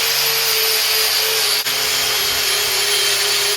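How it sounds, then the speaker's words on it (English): An angle grinder grinds back the face of a new steel anvil with a steady, loud, high-pitched whine that holds continuously, dipping only once for a moment. "I think when you get a new anvil, it's always worth grinding back the face"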